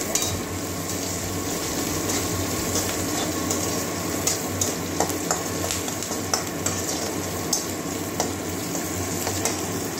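Onions sprinkled with salt fry in a pan with a steady close sizzle, broken by regular scraping strokes of a stirring utensil. No one speaks.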